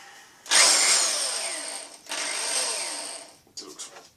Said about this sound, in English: let's get this drill bit on first so you can get around